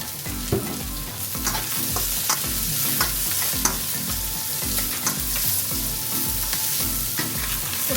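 Oil sizzling and spattering in a hot pan while food is stirred, a steady loud crackle with repeated scraping strokes of the spatula close by, no talking.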